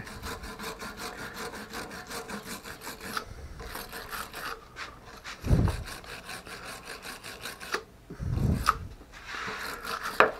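A wire brush is rubbed by hand on a water pump bearing, producing rhythmic scraping strokes with a few louder, heavier rubs, close and alone.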